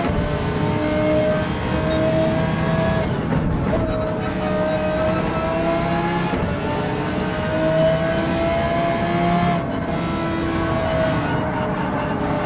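An Audi R8 Evo GT3 race car in a racing game holds a loud, continuous engine drone with steady harmonic pitch, shifting slightly through gear changes, with no talking over it.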